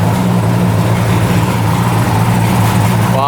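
A 1975 two-stroke triple motorcycle engine, revived after sitting 40 years, idles steadily with a low, buzzing drone, loud and close, running evenly throughout.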